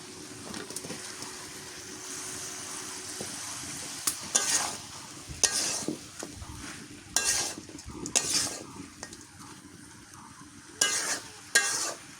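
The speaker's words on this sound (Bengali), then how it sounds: "মাংসটা কষাই দিলাম, এখন কায়দা দিয়ে ভালো করে কষাই নিই।" Broiler chicken meat is stir-fried in a pan: a low, steady sizzle runs beneath intermittent loud scrapes and clatters of a spatula against the pan, growing busier in the second half.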